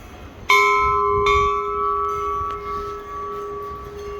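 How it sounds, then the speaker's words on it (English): An old scuba tank converted into a bell is struck about three times, each hit ringing out loud and clear with a long, sustained metallic tone that slowly decays between strikes. "You gotta ring that bell anytime we're doing shots. That's an old scuba tank made into a bell."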